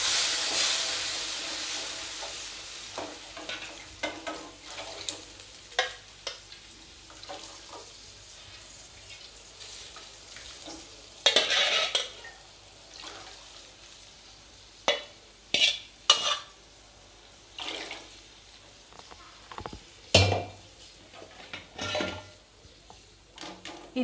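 Kolhapuri misal masala with boiled sprouts and water simmers in a pot, a continuous bubbling hiss punctuated by repeated scraping stirs and clanks of a spoon against the pot.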